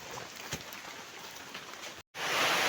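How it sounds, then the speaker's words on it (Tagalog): Heavy rain pours down steadily in a dense, hissing wash of drops on surfaces; the sound breaks off for a split second, then returns even louder and fuller, with no voices. "grabe mo kay kusog kayong ulan"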